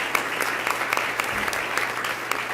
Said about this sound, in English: Please give him a round of applause for his leadership.